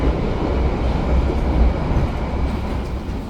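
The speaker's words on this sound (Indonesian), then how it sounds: "Ya, ini dia kereta panoramik untuk kereta api Turangga" Inside the KA Turangga panoramic passenger car, a steady loud rumble of wheels on rails with a deep low drone and continuous rattle, close and unbroken, with no talk over it.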